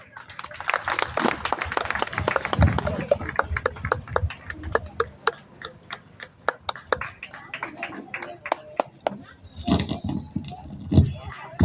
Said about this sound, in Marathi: सगळ्यात मोठ्यान टाळी मारचो ताका.